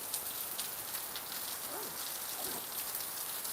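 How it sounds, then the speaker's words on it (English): Rain pattering steadily on a balcony in Thailand, a soft, even hiss of drops at a constant low level throughout, with no talking. "I quite like the sound of rain and thunder."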